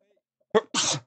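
A single sharp sneeze, close and loud: a short sudden intake followed by a forceful burst, with no talking around it.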